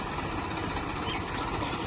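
A tractor engine runs steadily while spraying a crop field, a continuous droning hum with a constant tone and no breaks, fairly close and unaccompanied by talk.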